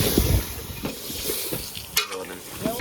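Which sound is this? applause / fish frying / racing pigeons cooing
fish frying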